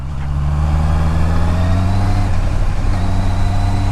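A Honda CBR 650R, 649cc, rumbles loudly and steadily up close while downshifting, a constant deep engine drone with a slight rise in pitch, with no voices.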